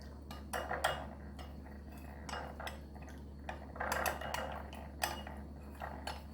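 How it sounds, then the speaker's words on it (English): Spoon clinking against a bowl while cornstarch is stirred into water for Jamaican hominy corn porridge, a series of light, irregular scraping taps heard close up over a low steady hum, with no talking. "I'm just going to add some water to that and mix it out."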